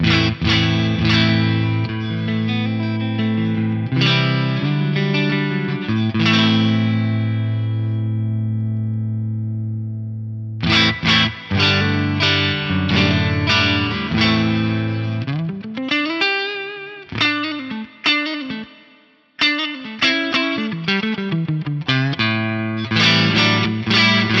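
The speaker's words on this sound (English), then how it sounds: "With this guitar, I might try it with the bright switch off" Electric guitar through an Axe-Fx III amp modeler with the bright switch off, loud and close, with sustained ringing chords that give way to quicker picked notes, bends and fast runs, played alone.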